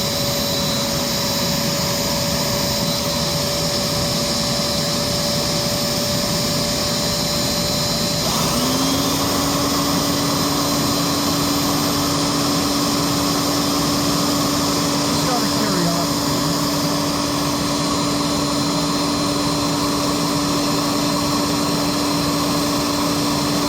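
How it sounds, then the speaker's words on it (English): Riccar Brilliance vacuum cleaner's clean air motor running in floor mode, a loud steady whine and rushing drone that shifts pitch once partway through and then holds, continuous and close. "We'll start it off with just the clean air motor, and we are in floor mode."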